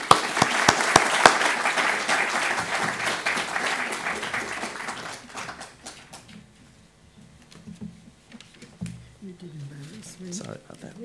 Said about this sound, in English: So I'd like you all to give a nice round of applause for Janet Brown.